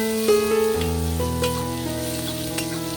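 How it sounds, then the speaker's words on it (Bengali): Chopped onions frying in hot oil for a fish tel jhal, stirred steadily: a close, loud, continuous sizzle with occasional scraping strokes and no talking. "পেঁয়াজটাকে ভালো করে নেড়ে চেড়ে ভেজে নেব।"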